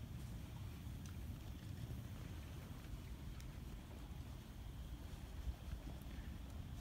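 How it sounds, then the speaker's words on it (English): A river flows just out of sight beside a hammock camp, a steady, continuous rush of low water noise that stays even throughout with no talk. "You can hear the river, but you can't see it."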